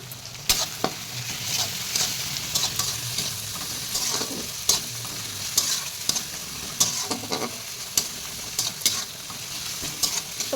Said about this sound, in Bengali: তো ভালো করে এবারে পেঁয়াজ আদা রসুনটা ভেজে নেব যাতে কাঁচা গন্ধটা চলে যায়